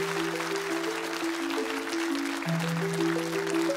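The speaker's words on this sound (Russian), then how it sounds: "Аплодисменты нашему гостю." A television studio audience applauds a guest, a soft, even patter of clapping fairly low in level, with a sustained musical chord droning beneath.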